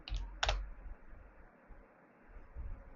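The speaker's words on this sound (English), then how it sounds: "then type C drive, then CD Win95" Keys tapped on a computer keyboard while entering a DOS command during a Windows 95 installation, a few quick close clicks at the start, then quiet background hiss.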